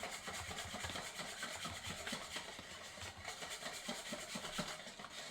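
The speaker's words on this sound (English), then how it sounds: "Just get that all whisked in together." Chocolate pie filling being whisked in a bowl, a steady close-up rhythmic scraping and rubbing of the whisk that continues without pause.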